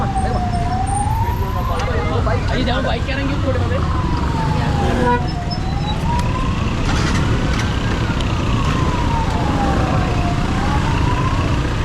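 An ambulance siren wails in long rising and falling sweeps on a road by a bridge cleared of vehicles, loud and close over traffic rumble while a person speaks.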